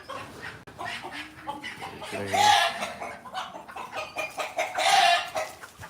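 Hens and a single rooster clucking and squawking in a busy goat-farm yard, with one louder call standing out amid steady background chatter of other birds.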